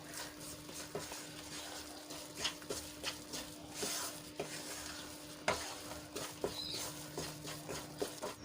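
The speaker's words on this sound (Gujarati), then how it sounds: "હજી આપણે એને બે થી ત્રણ મિનિટ માટે શેકી લઈશું જ્યાં સુધી આપણું ઘી છૂટું ન પડવા લાગે ત્યાં સુધી તો આ રીતે આપણે સતત એને હલાવતા રહીશું" Milk and flour mixture roasting in ghee is stirred steadily in a pan, giving a soft continuous sizzle with repeated scraping strokes of a spoon, close and moderately quiet, with no talking.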